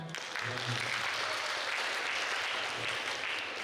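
Applause from an audience in a university lecture hall during a guest lecture, a steady, moderately distant wash of many hands that holds evenly throughout, with faint voices underneath.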